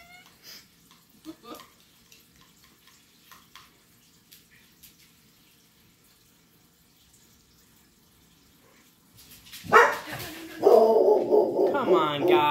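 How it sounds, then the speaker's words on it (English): Dogs bark at a desert home, a sudden burst of loud repeated barking near the end after a long quiet stretch with faint knocks and movement. "The dogs are going to bark, but it's fine."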